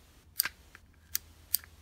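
Bail arm of an affordable Daiwa spinning finesse reel snapping shut, giving a few sharp, close metallic clicks spaced apart over a quiet background.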